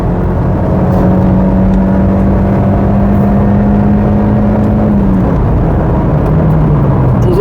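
Engine of a Mazda MX-5 NC roadster with a short, firm gearbox climbing steadily in revs, a loud continuous drone that rises, dips at a shift and climbs again, heard from inside the car.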